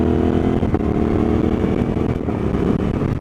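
A loud, steady Suzuki DL-800 motorcycle engine runs close by, with a brief, barely noticeable dip where it shifts gears.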